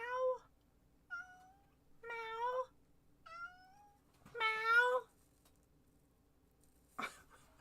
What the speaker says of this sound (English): Have a kitty crying at me